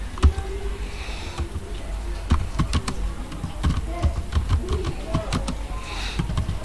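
Quick bursts of clicking keystrokes on a computer keyboard, close and fairly soft, in an irregular typing rhythm with short pauses.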